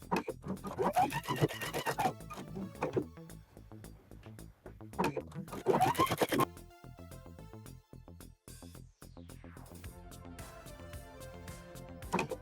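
A sewing machine stitches a hem on a dolman-sleeve top in bursts of rapid mechanical whirring, with two longer runs and quieter stretches of slower stitching and clicks between them. It sounds close and moderately loud.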